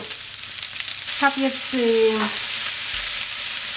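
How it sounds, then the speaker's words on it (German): Spring onions and ham fry in a pan, a steady close sizzle that runs through the whole stretch, with a brief scrape of stirring and a few words spoken over it. "gebe ich noch den unteren Teil der Frühlingszwiebeln dazu und den Schinken. Und das ist auch noch kurz anbraten."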